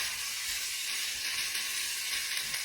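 Vegetables stir-frying in a pan give a steady, bright sizzle with soft hissing, close and even throughout, with no voices.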